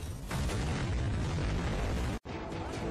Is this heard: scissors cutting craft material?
no